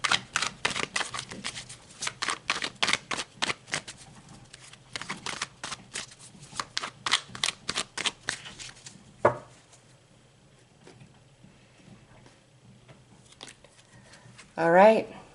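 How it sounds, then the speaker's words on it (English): Tarot cards are shuffled in quick, repeated riffles and cuts for several seconds, followed by a quieter pause and a card being pulled, close and clear with no talking. "So let's pull some more cards."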